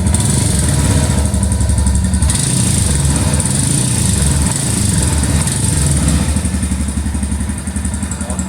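A warmed-up Royal Enfield Himalayan Scram 411 motorcycle engine idles steadily, recorded up close by the exhaust, with a continuous low, throbbing rumble and some mechanical clatter throughout.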